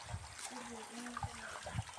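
Drinking water is poured and trickles with a few small splashes, running softly under people talking nearby.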